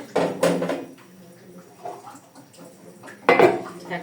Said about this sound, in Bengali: এটাকে আমি এখন ঢাকনা দিয়ে ঢেকে দিব